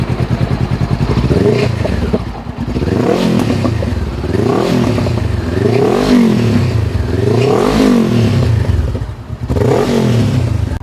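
A 2016 Honda CB500X motorcycle engine revs repeatedly nearby, rising and falling in loud rhythmic waves of throttle over a continuous rumbling idle.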